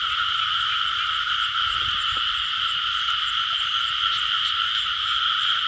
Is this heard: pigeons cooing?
no